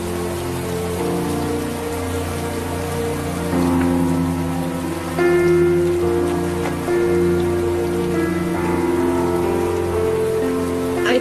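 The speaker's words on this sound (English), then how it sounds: "I think we need to get in and out of the rain now." Rain pattering steadily on surfaces in a small town, a continuous soft hiss heard beneath a sustained music score that carries through the whole passage.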